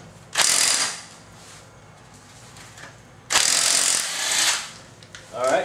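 A Harbor Freight cordless impact wrench works a lug nut torqued to 80 foot-pounds off a wheel, with two loud, close hammering bursts of about a second each separated by a quieter pause.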